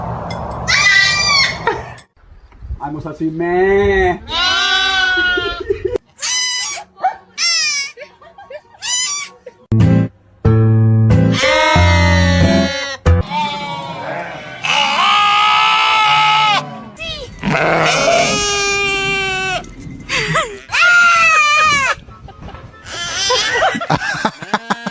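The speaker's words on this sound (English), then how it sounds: "So here's some goats." Goats bleat loudly and repeatedly, wavering cries from several animals overlapping in quick succession, with occasional people laughing and talking among them.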